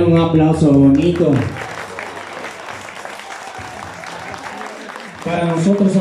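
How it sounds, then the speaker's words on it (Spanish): A crowd at a youth mariachi performance in Colombia bursts into sustained applause for several seconds, bracketed by a person speaking loudly before and after. "Yo quiero que me regale un aplauso bonito."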